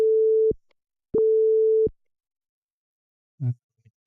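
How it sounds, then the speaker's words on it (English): Sine wave test tone played into a DJ deck, heard as two steady pure beeps, one about half a second and one under a second, separated by silence, followed by a short faint click. "Sine wave into deck 3."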